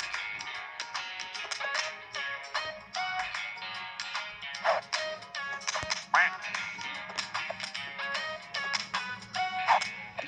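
Cartoonish ducks quack over and over in a duck battle video game, with bright bursts of quacks over light game sounds and no voices.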